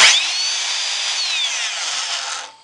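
A power drill spins a clamped threaded all-thread rod in a home shop, a loud, steady high whine that starts abruptly and winds down at the end.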